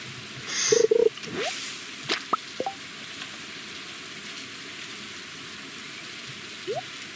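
Steady rain hisses throughout a video game scene, a soft even wash in the background, broken by a few brief game chimes and blips early on and one more near the end.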